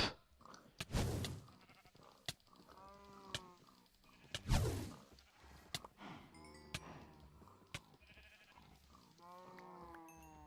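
Sheep in the Minecraft video game bleat repeatedly while being set on fire by fireballs, several short wavering bleats scattered among sharp game impacts and crackles, fairly close and clear.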